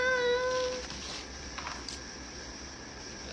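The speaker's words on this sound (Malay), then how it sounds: "Oh, ada kucing." A cat gives one short meow near the start, fairly close and clear, then only soft, even indoor background noise remains.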